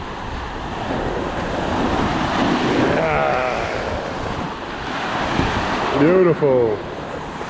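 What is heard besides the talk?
ocean waves breaking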